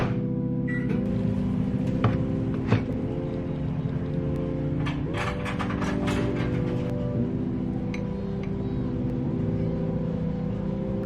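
Microwave oven running while heating fried spicy tofu, a steady close hum with a low drone, punctuated by a few short clicks and rattles.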